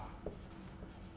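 A pen scratches briefly across paper while a maths lesson on derivatives is written out, a soft, close scribble of about a second over a steady low room hum.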